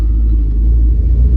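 Cold Ford car engine running, a deep, steady low rumble close by with a slightly uneven idle, lasting about a second and a half with no talking.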